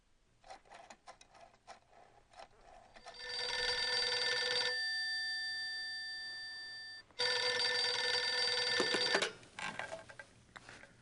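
A telephone rings in the Gabriel Knight 2 video game: two long, bright electronic ring bursts separated by a short gap, with a few faint clicks before and after them.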